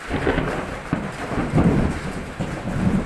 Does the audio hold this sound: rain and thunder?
yes